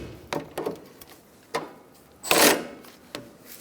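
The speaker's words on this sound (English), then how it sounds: "We're going to snug up our sway bar link nuts by prying down on the bar and using my battery ratchet." Battery ratchet snugging sway bar link nuts on a 2002-2006 Honda CR-V front suspension: several short, close mechanical bursts with a longer, louder whirring burst near the middle, separated by quiet gaps.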